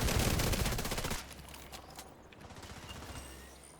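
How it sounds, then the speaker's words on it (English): Rapid burst of automatic fire from a hostile sniper turret in a video game, loud and dense at first, then cutting off abruptly to scattered fainter shots and background rumble. "Hostile sniper turret detected."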